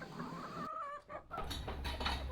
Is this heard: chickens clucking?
yes